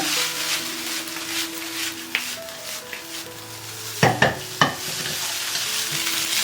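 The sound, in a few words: stir-frying Cantonese rice noodles in a wok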